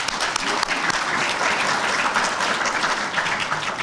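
A dense round of applause from a crowd at a Knights of Columbus communion brunch, honoring a new Grand Knight; steady, even clapping fills the room for the whole stretch without letting up.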